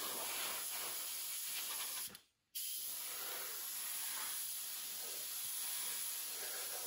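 A steady, close airy hiss of an airbrush spraying paint on a 1/48 scale Tamiya P-38 model, briefly cutting off for a moment before resuming and continuing evenly.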